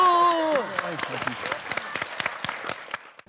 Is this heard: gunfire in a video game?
no